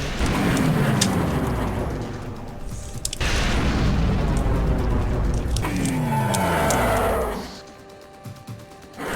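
Heavy explosions from a troop transport being destroyed in the video game TerminalFury, with several deep booming blasts and rumbling bursts back to back, loud and close, before fading to a quieter tail.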